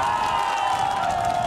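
Audience at a community gathering cheering and applauding together, a dense crowd roar with clapping and shouts, steady and fairly loud throughout the short burst.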